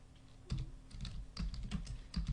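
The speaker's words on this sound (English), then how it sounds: "And I'm going to type in" Quick run of keystrokes on a computer keyboard as text is typed into a drawing title block, with close, crisp clicks in short uneven bursts and no voice.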